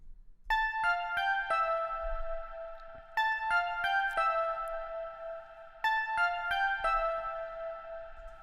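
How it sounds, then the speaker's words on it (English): A simple three-note piano figure played three times, each note ringing clearly and decaying in a calm, unhurried rhythm with no voices. "I was really feeling it from this piano, so I ended up making this little 3-note little progression"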